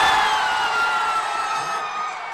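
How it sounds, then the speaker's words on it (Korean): Citizens at an impeachment rally in Yeosu, South Korea, cheer as President Yoon Suk Yeol's impeachment vote passes: a dense, loud roar of voices and whoops that holds steady and fades slightly at the end. "탄핵안 가결 결과까지 전해지자 시민들은 환호했습니다"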